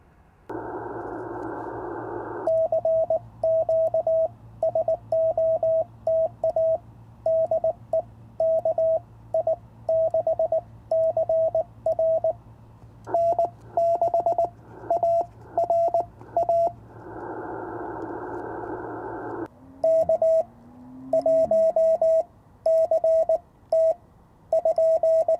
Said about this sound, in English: so let's work some Morse code